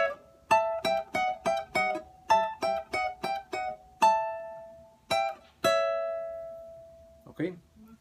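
A steel-string guitar plays a phrase from an Ecuadorian albazo, high on the first and second strings: a quick run of bright plucked notes in bursts, ending on one long ringing note, close and solo without speech.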